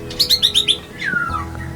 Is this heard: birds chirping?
yes